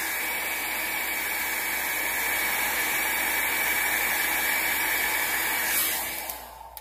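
A hair dryer blows steadily and loudly over an alcohol ink painting, a continuous airy roar that holds for about six seconds before cutting off and winding down near the end, with no talking.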